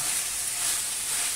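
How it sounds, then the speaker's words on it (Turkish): Mushrooms and onions sautéing in a pan make a steady, bright, even sizzle that holds without a break, close and fairly loud. "mantarlarımızı attık. Şöyle güzelce birlikte kavuralım. Şöyle harmanlansın soğanla birlikte."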